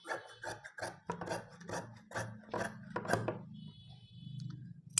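Scissors cut straight through silk fabric for a sleeve of a child's silk skirt-and-blouse outfit, giving repeated close rasping snips in a steady rhythm with soft rustling between strokes.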